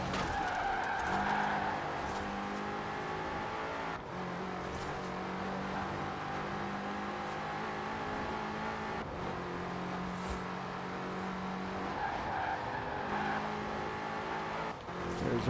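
A race car in Forza Horizon 4 running close to 200 mph, its engine droning steadily and loudly throughout, with repeated tire squeals and skids.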